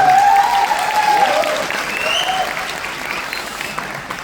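An audience at a company's 15th-anniversary speech event applauding the speaker, dense sustained clapping throughout with faint voices and a few tonal sounds mixed in, gradually easing.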